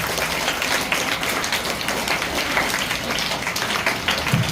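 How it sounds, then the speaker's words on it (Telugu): An audience at a Telugu Language Day event claps, producing a dense, continuous wash of applause at steady loudness throughout, with no one speaking over it. "వారందరికీ ఒకసారి గట్టిగా చప్పట్లు"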